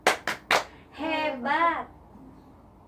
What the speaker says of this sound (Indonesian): Sekarang kita tepuk hebat dulu untuk Ibu Ila.